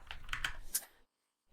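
A short burst of a few quiet computer keyboard clicks while entering text in Figma, close and faint, ending abruptly in near silence.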